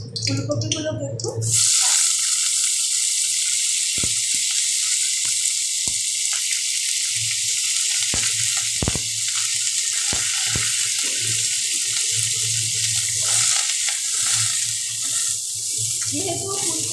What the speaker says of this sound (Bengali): এবার সামান্য আরেকটু তেল দিয়ে ফুলকপিগুলো ভাজা করব।